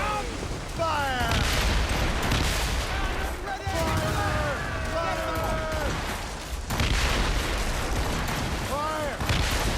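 Naval battle in Assassin's Creed Rogue, with ship cannons firing broadsides amid continuous loud combat, booming volleys and crashes layered under shouted crew commands throughout.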